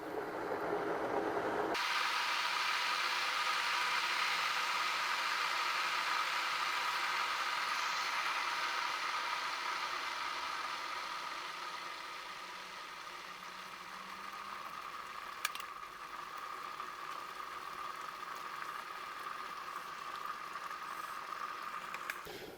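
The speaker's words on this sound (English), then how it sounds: "So the kettle's still boiling away" An electric kettle heats water in a small kitchen, starting with an abrupt switch-on followed by a rising, steady rushing roar that gradually softens into a quieter bubbling hiss, with a brief click partway through.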